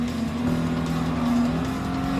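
A GT1 race car in Gran Turismo Sport drones with a loud, steady engine note that holds nearly constant pitch, a continuous close roar with no pauses.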